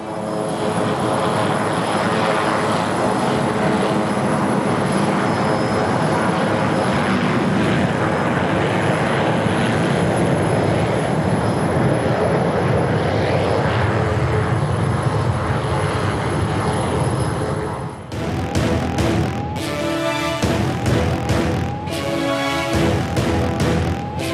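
Air Force One, the US presidential plane, lands at Ahmedabad airport in Gujarat with a loud, sustained engine roar that later breaks into choppy, fluttering bursts, close and without talk.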